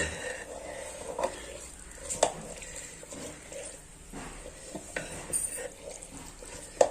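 Mango pickle is mixed with oil from bottom to top, with close, irregular stirring and scraping, soft wet squelches and a few sharp clinks against the container.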